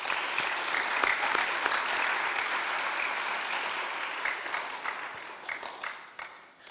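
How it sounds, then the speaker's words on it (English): A concert hall audience at a Carnatic arangetram applauds the vocalist, a dense steady clapping that holds strong and then thins into scattered claps as it dies away. "Let's give our vocalist another round of applause."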